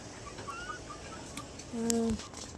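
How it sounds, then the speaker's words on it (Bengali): A few soft clucks and chirps from chickens, ending with a short, louder squawk close by against quiet background noise. "মুরগি তাড়াতাড়ি ঢুকে যাও।"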